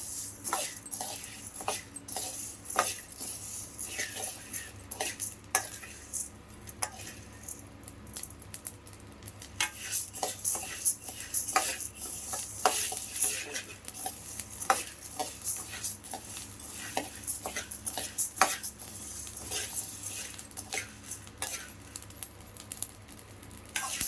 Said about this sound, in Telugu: లైట్ బ్రౌన్ వచ్చేటట్టు వేయించుకోండి ఇవి అన్నీ కూడా.